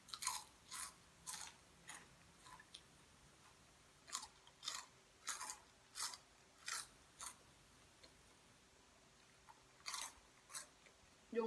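Close, crisp crunching bites of crunchy pork rinds eaten with a fresh shrimp salad dressed in fish sauce, about a dozen separate chews in an uneven rhythm against a quiet background.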